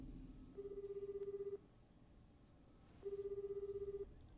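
Telephone ringing in the anime Death Note, two steady electronic ring bursts about a second long each, separated by a quiet gap, faint under low background murmur.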